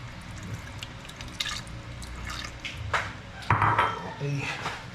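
Water drips and splashes into a metal cooking pot holding paksiw na bangus with patis and vinegar, with clinks of the pot and utensils over a busy kitchen background.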